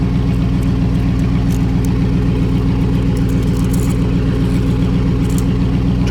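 A 2006 Ford F150 with a 4.6 V8 and no mufflers rumbles loudly and steadily at idle up close, a deep, even throbbing exhaust note that holds constant throughout.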